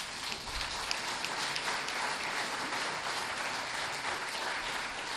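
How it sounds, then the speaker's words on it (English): An audience at an elder-advocacy event applauds steadily, a moderate, even spread of many overlapping claps sustained for about five seconds with no speech on top. "And I want to applaud that."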